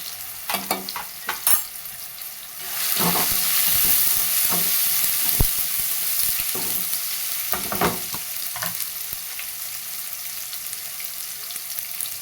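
Chopped tomato frying in a pan with salt and turmeric, a steady close sizzle rising after a few scattered stirring clinks and scrapes, continuing alone with occasional spoon knocks.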